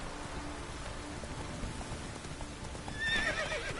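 A steady hiss like rain or wind fills the background, with a faint rhythm of horse hooves and a short whinny rising near the end, in the video game Witcher 3.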